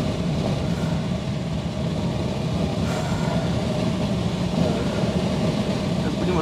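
A light aircraft engine, reported to be acting up, runs with a loud, steady, rumbling drone that continues unbroken from close range throughout.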